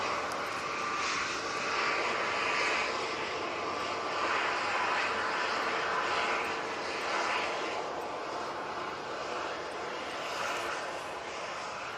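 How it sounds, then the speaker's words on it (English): Ryanair Boeing 737 jet on approach, its engines a steady, fairly loud broadband roar that holds with gentle swells throughout, with some faint background voice. "And Ryanair 73 coming on"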